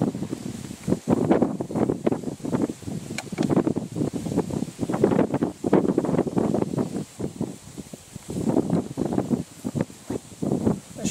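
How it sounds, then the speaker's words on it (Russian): Wind buffets the microphone in rough, gusty rumbles, continuous and close, with no voices. "А сейчас ветер"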